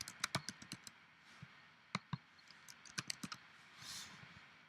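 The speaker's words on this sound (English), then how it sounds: "We're going to type the text in our label that says prepared by and then your name." Quiet typing on a computer keyboard, close and soft, in short irregular clusters of key taps with a few pauses and a brief faint hiss near the end.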